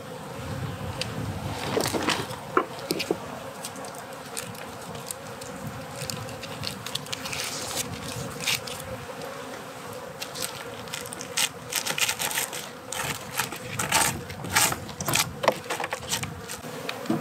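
A dense, continuous buzz of many honeybees swarming close by on a farm, steady and humming with scattered louder passes and faint wind.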